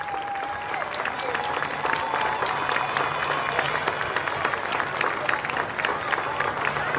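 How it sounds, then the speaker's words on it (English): A crowd at a youth baseball closing ceremony applauds the winning Cardinals team, sustained steady clapping from many hands throughout, with a few faint voices mixed in. "Please stand up and let's give them a round of applause."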